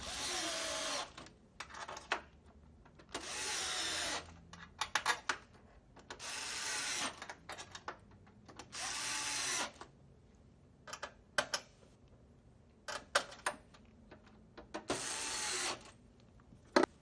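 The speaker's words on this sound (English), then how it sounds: "Then we're gonna start installing the long Torx bolts." A power driver runs in short bursts, driving long Torx bolts into an Xbox One console during a frame and fan replacement, with quiet clicks and handling noise between the runs.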